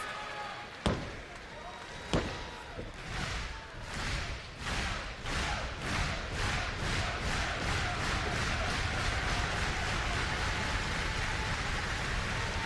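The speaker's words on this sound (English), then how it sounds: "The crowd rumbling at every given moment, every opportunity for Joe Hendry" A crowd in a TNA wrestling arena rumbles steadily, swelling into rhythmic stomping or clapping that speeds up and grows denser. A couple of sharp slams come early, and a commentator talks over the noise.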